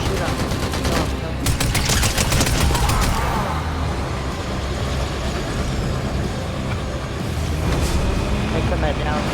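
Sustained gunfire in the game Fallout 76, a loud, dense burst of rapid shots early on that continues as a rough, rumbling barrage while a voice shouts over the top.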